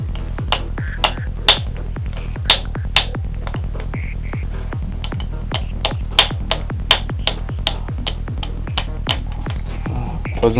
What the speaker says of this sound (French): j'y vais au marteau